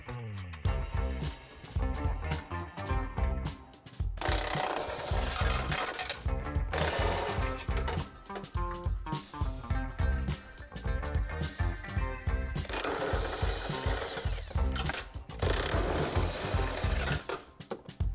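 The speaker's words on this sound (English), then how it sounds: "we're going to remove the bumper by taking the bolts off at the back" A ratchet loosens bolts on the rear of a Jeep JL stock front bumper, giving close, rapid clicking bursts broken by short pauses and louder stretches of mechanical whirring.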